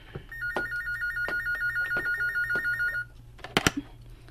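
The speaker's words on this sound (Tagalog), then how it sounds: "Ang telepono." An old-style telephone bell rings in a rapid warbling trill for about three seconds, loud and close, followed by a brief clatter as it stops.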